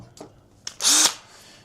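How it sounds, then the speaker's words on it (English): A power drill makes a short, loud, high whine lasting a fraction of a second while drilling holes into a weather station housing, preceded by two small clicks, close up. "So we just need to drill"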